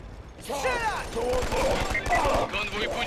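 Rapid bursts of Killzone 2 gunfire crackle and rattle continuously, fairly loud, with a voice shouting over the shooting.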